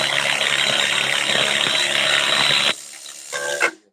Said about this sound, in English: Use the Martha Stewart impact driver.